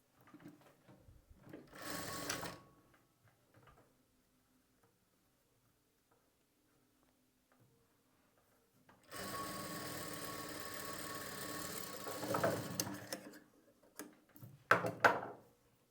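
A sewing machine stitching dots on fabric runs in short bursts: a brief whirring run, a long quiet pause, then a longer steady run and a final quick burst, close by with no voices.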